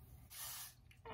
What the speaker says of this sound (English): Take a little bit of spray and just, you know, brush it through like that.